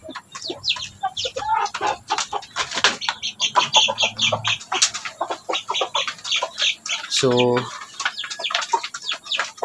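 A Basilan hen separated from her chicks clucks repeatedly and loudly up close, a busy series of sharp, uneven calls with one drawn-out squawk, while a person talks briefly over it.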